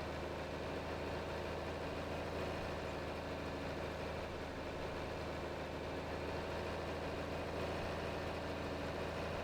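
A John Deere 4020 tractor with 4WD idles in Farming Simulator 22, a steady low diesel rumble that holds even and unchanging throughout, fairly faint with no voices over it.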